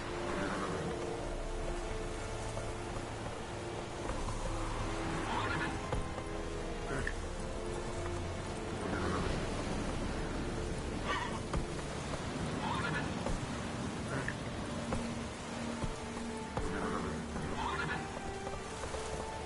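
Roach, Geralt's horse in The Witcher 3, neighs and whinnies several times over steady rain and clip-clopping hooves, the calls standing out at moderate distance against a constant background wash.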